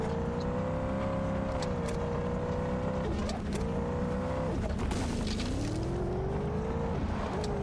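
A car engine in the zombie survival game Zed Zone hums loudly and continuously, its pitch sliding up and down as it revs and eases off, with no talk over it.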